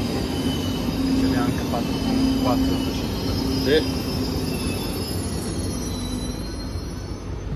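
An ALe 642 electric railcar roars along the Tirrenica line, with loud rolling rumble, brief wheel squeals and rising tonal whines heard from inside the carriage while people talk over it.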